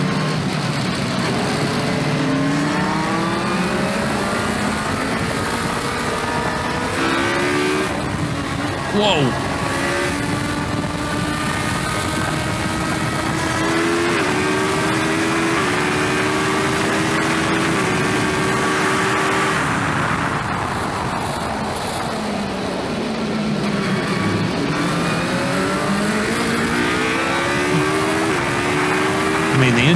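An Ariel Atom V8 race car, its engine built from two Hayabusa motorcycle engines, screams away from a race start with rising revs, sharp gear changes and loud intake noise, running close and continuous while people talk over it and one exclaims.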